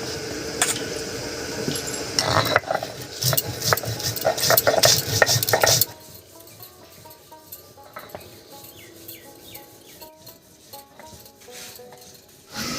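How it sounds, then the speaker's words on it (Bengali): Green chilies, mustard seeds, whole cumin and salt being ground together into a spice paste for a spicy hill-style vegetarian dish: about six seconds of close, rhythmic scraping and knocking, then a quieter stretch with birds chirping in the background. "মশলার মধ্যে আমি নিয়েছি তিনটে কাঁচা লঙ্কা সামান্য একটু সর্ষে আর সামান্য একটু গোটা জিরা আর সঙ্গে একটু লবণ একসঙ্গে করে বেটে নিচ্ছি"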